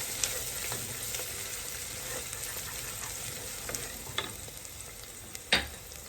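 Green chillies and onions fry in oil in a pot for a spicy mutton curry, giving a soft, even sizzle with faint stirring taps and one sharper clink near the end.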